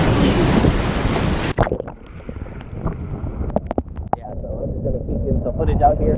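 Heavy ocean surf on a Cancun beach roars loud and close for about a second and a half, then drops to a softer wash of water and wind buffeting, with faint voices and scattered splashes.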